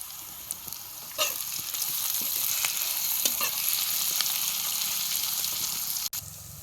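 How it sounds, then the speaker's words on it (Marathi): Whole spices and green chillies fry in hot oil as turmeric goes in for a chana dal curry, giving a steady crackling sizzle with scattered pops and a few stirring scrapes, no voices. "आता हे तेलात सगळं चांगलं भाजलंय याच्यात 1 अर्धा चमचा हळद घालतो"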